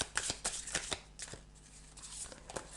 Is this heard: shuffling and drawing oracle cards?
yes